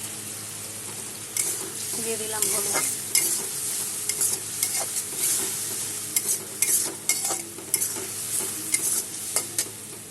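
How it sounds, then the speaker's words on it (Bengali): Yogurt, cumin, Kashmiri chili powder and turmeric are stir-fried together in a pan for a pointed gourd vegetable dish. A steady sizzle runs throughout, broken by frequent scraping and clinking strokes of the stirring utensil. "সব একসাথে এখন কষিয়ে নেব"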